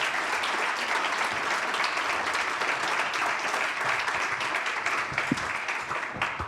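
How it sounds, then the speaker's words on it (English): Audience at a Geneva panel discussion breaking into sustained, dense applause for the panelists, an even roar of many hands clapping throughout. "Please allow the panelists a roaring applause"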